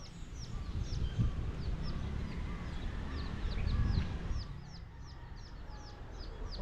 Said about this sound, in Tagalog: Oy, good morning mga ibon.